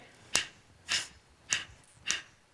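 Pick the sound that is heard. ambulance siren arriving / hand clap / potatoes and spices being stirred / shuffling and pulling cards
hand clap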